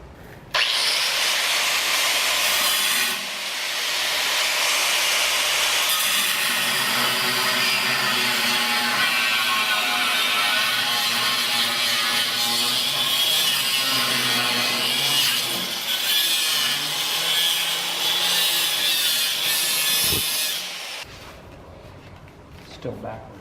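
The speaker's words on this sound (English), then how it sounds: "We got to cut it here and then bend that around just like we did on the other side." A rotary cutter is built from sheet metal, with a cutting tool making a continuous harsh grinding whine that runs loud for about twenty seconds, briefly dipping early on, then stops abruptly.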